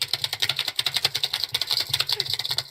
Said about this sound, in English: It's a lot of typing to play an MP3.